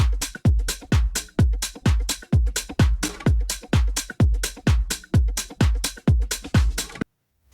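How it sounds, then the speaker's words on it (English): Isolated drums from a tech house track: a punchy, steady four-on-the-floor kick with hats and percussion layered on top, driving evenly before stopping abruptly. "then have the drums on their own"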